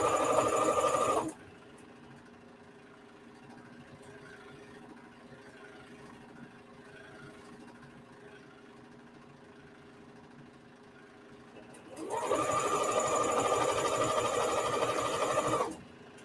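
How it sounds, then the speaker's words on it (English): A sewing machine runs in two short bursts, stitching elastic onto a men's shirt, a loud close whirring motor hum at the start and end with a quiet gap of low room noise between. "I am not sewing over the elastic."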